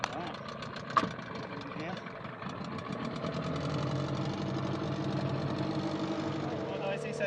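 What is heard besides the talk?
small engine starting and idling, run-in at half throttle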